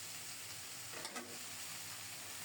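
Greens are stir-fried in a pan on a gas stove with garlic and green chilies, giving a soft, even sizzle with a quick stirring scrape in the middle.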